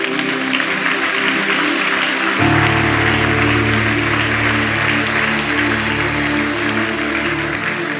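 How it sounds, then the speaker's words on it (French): A congregation at a church service in Martinique applauds loudly and steadily, a dense, continuous wash of clapping that fills the space, with a sustained musical tone joining partway through. "Acclamez très fort pour le Seigneur"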